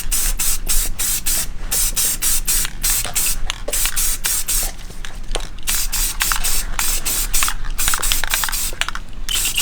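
Rattle-can spray paint applied to wheel spokes, a rapid series of short hissing bursts in an irregular rhythm, close and loud, with no talking.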